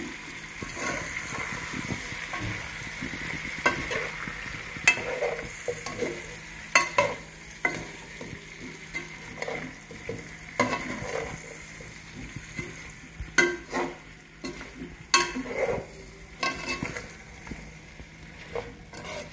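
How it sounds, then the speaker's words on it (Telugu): Large yam pieces are stirred through tempered oil in a pan for a tamarind stew, with a spatula scraping and clacking in irregular strokes over a soft frying sizzle. "నూనెలో మొత్తం అంతా కలబెట్టుకొని ఇది మగ్గనిచ్చుకున్నాను"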